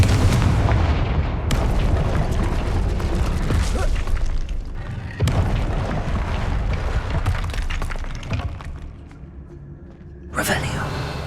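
Fire-blasting spell effects in the video game Hogwarts Legacy: several loud, booming explosive bursts stand out over dense, continuous game sound, with a sharp blast near the start, another mid-clip and a final one near the end.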